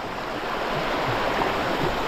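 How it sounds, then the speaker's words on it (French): Steady rushing water from a river crossing in northern Sweden's wilderness fills the whole clip, a constant broadband wash close by with no voices. "Première traversée de rivière."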